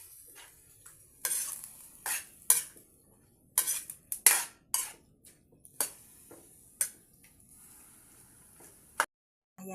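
Soy sauce being stirred into pancit habhab noodles in a pan: irregular sharp clinks and scrapes of a utensil against the pan, close and alone, with quiet pauses between strokes.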